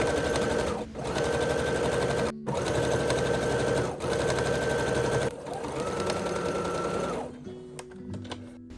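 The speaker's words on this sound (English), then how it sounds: "you're just going to sew 2 straight lines 3/8 of an inch apart from each other" A sewing machine runs in steady bursts as it stitches two straight lines for a nightgown's wrist gathers, with a loud rapid mechanical whir broken by brief pauses, then slowing and stopping near the end.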